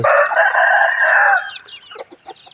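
A loud, close rooster crow holds for over a second, then breaks into a quick series of softer hen clucks, at a Buddhist temple in Thailand.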